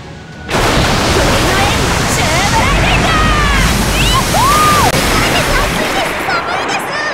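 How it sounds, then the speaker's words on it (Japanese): A big ocean wave crashes in the video game Fate/Grand Order, a loud, sustained roaring surge of rushing water that fills several seconds, with brief game-effect tones flickering over it. "来やがったな水曜の大波"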